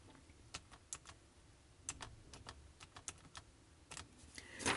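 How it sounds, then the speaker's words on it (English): Calculator keys being pressed while numbers are entered: a sparse series of small, sharp clicks at an uneven pace, fairly quiet against a soft background hiss, with no one talking. "So I'm going to type this into my calculator."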